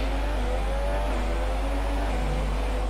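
Formula 1 car engine from the F1 2017 racing game, a steady high-pitched whine held under throttle with slight pitch shifts, loud and continuous with no talk.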